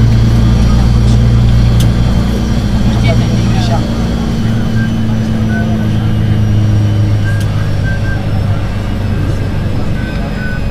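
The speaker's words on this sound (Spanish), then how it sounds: "es un espectáculo ver los Ferraris, los Lamborghini, los Rolls Royce, los carros, todos los coches que hay aquí" Ferraris, Lamborghinis and Rolls-Royces driving along a street by the casino on the Côte d'Azur, heard as a loud, steady engine drone and traffic rumble that never lets up, with voices over it.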